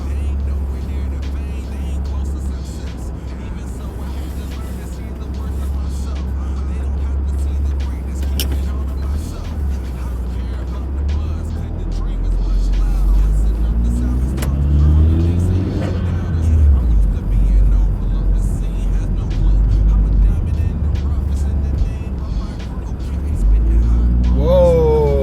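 A 2009 Acura RDX SH-AWD with newly upgraded front springs drives along, its steady low engine and road rumble filling the cabin continuously, swelling slightly around mid-drive, with no talking.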